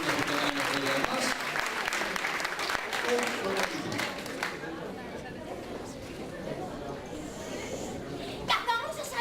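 Audience applause fills the room, a steady wash of clapping hands that rises and carries on throughout, with chatter and a few children's voices mixed in beneath it.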